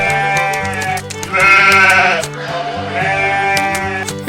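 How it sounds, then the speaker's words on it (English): Sheep in a farm barnyard bleat repeatedly, with several wavering calls overlapping at close range and fairly loud, with no voices. "Here are the sheep."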